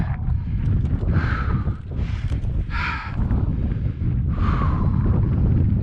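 Gusty wind on the summit of Juanita Peak in Nevada's Gold Butte National Monument, roaring loudly and buffeting the microphone in heavy rumbling waves.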